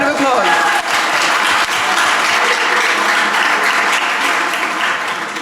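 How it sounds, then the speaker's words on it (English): An audience at a sustainability panel breaks into loud, sustained clapping for a panelist, a dense wash of applause that continues through the whole stretch. "Round of applause."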